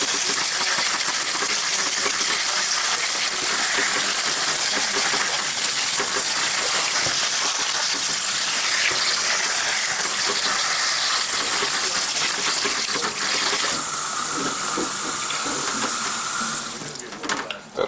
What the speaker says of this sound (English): I'm going to rinse off the lettuce a little bit,